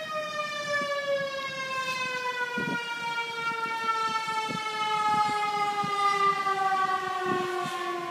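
A loud, sustained fire engine siren wails with a steady, slowly falling tone from about a block away, with scattered knocks and thumps underneath.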